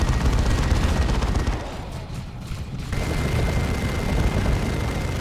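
Continuous rolling gunfire and explosions from a Dawn of War 2 battle between Space Marines and Chaos Space Marines, a dense, loud barrage with a short lull midway before resuming.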